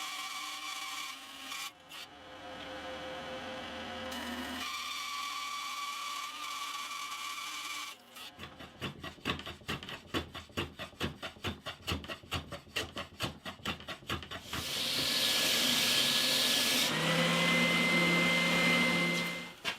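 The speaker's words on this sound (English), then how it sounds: "So I'm going to feed this through the bandsaw." Bandsaw slicing through a wooden Telecaster guitar neck in a workshop, with a steady motor hum, a stretch of rapid rhythmic rasping as the blade bites, then a louder sustained whine near the end; no one speaks.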